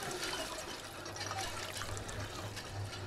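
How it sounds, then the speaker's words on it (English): In the video game Fallout 4, a character drinks from a water source: a steady gurgling trickle of running water under soft ambient noise, even and continuous, moderately quiet, with no speech. "Just drink some water."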